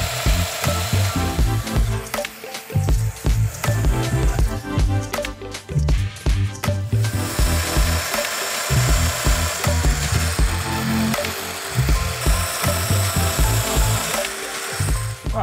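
A domino joiner cuts joint mortises into wood for a king size bed frame, giving a loud, steady power-tool whir with repeated cutting bursts that run almost without a break.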